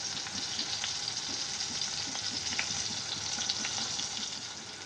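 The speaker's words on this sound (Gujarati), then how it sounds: "આપણે સારી રીતે શેકાવા દેવાના છે, એકદમ ધીમી ફ્લેમ પર જ શેકવાના છે" Stuffed green chillies roasting in a pan over a very low flame, a soft steady sizzle running throughout with faint pops and crackles, quiet and close, no talking.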